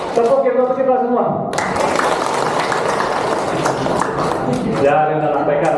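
Audience in an Indonesian religious lecture clapping together in unison on cue, a dense, loud burst of applause filling the middle seconds, with a voice speaking before and after.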